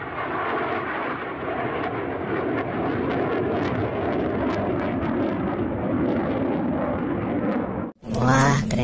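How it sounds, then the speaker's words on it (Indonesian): A toy fighter jet gives off a loud, steady roaring engine whoosh that runs continuously, then cuts out abruptly near the end before a voice briefly speaks. "ada pesawat tempur"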